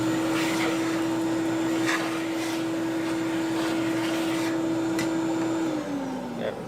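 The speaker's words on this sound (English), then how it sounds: "Let me go and vacuum my work area." A vacuum cleaner runs close by on a jeweler's bench work area with a loud, steady motor whine and roaring airflow throughout, its pitch dipping slightly near the end, with occasional small clicks and bumps as it moves.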